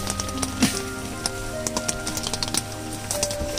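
Rain falling around an auto-rickshaw with its curtain open, a steady patter of drops and small taps on surfaces, close and continuous with no talk.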